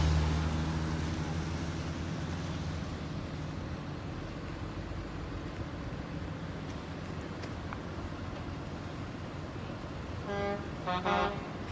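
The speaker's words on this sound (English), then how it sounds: "honking his horn saying it's coming up" Constant low traffic rumble fills a town street, and near the end the distant horn of a truck hauling an oversized industrial dryer gives a few short toots.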